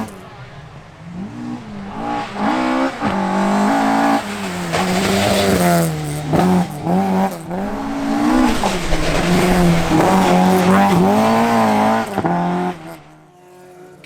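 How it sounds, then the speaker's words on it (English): An 8-valve Ford Escort rally car on a summer series stage at Shackleton, engine loud and close, revving hard through rising and falling gear changes with brief tire squeal, before fading away at the end. "David Christie in his 8-valve Escort is on it from the get-go."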